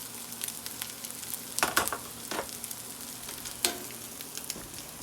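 Home-fried potatoes sizzle in a pan with a steady frying hiss, broken by a few sharp scraping or stirring clatters.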